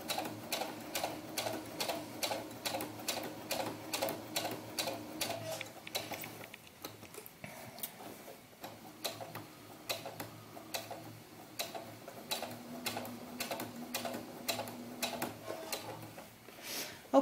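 Sewing machine stitching piping onto a doll bodice, a fast steady mechanical ticking that runs throughout with brief changes in pace, close and continuous.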